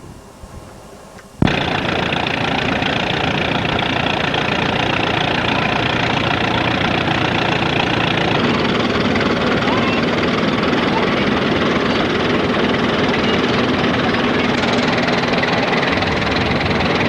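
An old Oliver Hart-Parr 28-44 tractor engine at a 1989 pioneer threshermen's reunion bursts in loud after a quiet moment and keeps a steady, rough, heavy running roar as it drives close past.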